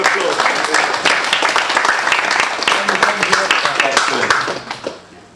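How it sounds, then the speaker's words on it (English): Audience applause at a talk, a dense patter of many hands clapping steadily and loudly, with a few voices mixed in, before tapering off near the end. "Round of applause."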